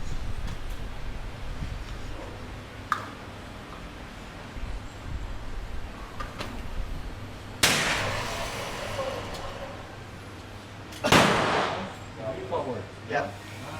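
Two sharp gunshots ring out at a shooting range, several seconds apart, each loud and close with a short echoing decay, over steady background noise and people talking.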